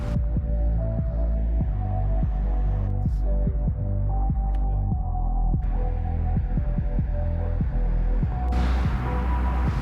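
A BMW E46 330 diesel engine idles close by, a loud, even low throb with a steady rhythmic pulse that holds throughout.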